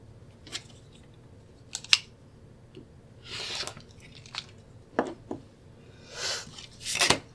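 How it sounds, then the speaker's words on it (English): Scissors snip through the fabric seam allowance of a sewn snack mat, a few sharp, quiet cuts and rustles spaced irregularly over a faint background. "we're going to trim off back to our 1/4 inch"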